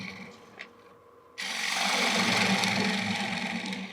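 A gouge meets a spinning wooden bowl on a lathe with the tool rest lowered for a shear cut, starting abruptly and settling into a continuous close rasping, scraping hiss over the motor's low hum.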